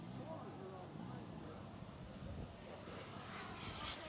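A model aerobatic airplane, a Laser, flies at the Joe Nall radio-control fly-in, its engine giving a steady, fairly distant drone under outdoor background noise and some voices for the whole stretch.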